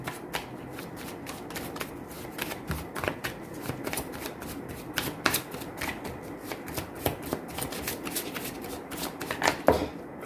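Tarot cards shuffled and drawn by hand, a steady run of crisp riffling flicks and slaps that carries on without talk at a close, moderate level.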